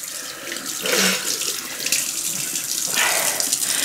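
Water runs steadily from a bathroom tap into a sink during a skincare routine, a close, continuous splashing hiss that swells and shifts as hands move under the stream.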